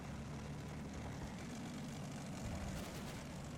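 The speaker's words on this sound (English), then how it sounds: "Hear those engines roar, man." Propeller aircraft engines drone steadily and loudly throughout in Combat Mission: Cold War during a Marine amphibious landing, a low continuous roar with no talk over it.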